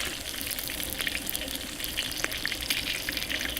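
Calamari fry in hot oil in a wok outdoors, a dense, steady, loud sizzling hiss with crackling bubbling spread throughout, and no talking.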